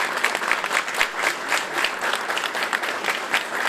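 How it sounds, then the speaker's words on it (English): Audience applause fills a hall at HBCU Day at the Louisiana Legislature, steady dense clapping from many hands, moderately loud and sustained throughout with no talking over it. "Let's give them a round of applause."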